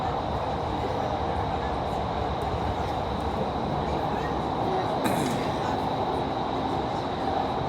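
Inside a metro train in Qatar bound for Mall of Qatar, a steady, close rolling rumble fills the carriage, with a brief higher hiss partway through.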